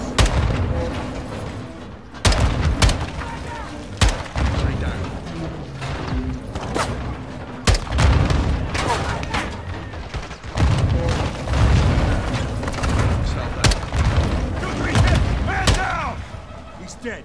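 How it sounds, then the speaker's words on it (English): Grenade blasts and heavy gunfire rumble through a firefight in the Call of Duty Modern Warfare 2 campaign, with dense repeated booms and shots and shouted voices over the top. "Incoming! Take cover! They're launching grenades!"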